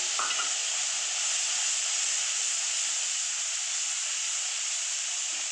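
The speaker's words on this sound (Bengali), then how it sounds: "এই যে আলুগুলো আমি দিয়ে দিয়েছি মশলার সাথে কষবে এবং সেদ্ধ হয়ে যাবে" Potatoes cook in a pan with onion-ginger paste, sugar and dry chili powder, making a steady, even hiss of sizzling and steam throughout, close and moderately loud, with a brief stir near the start and no speech.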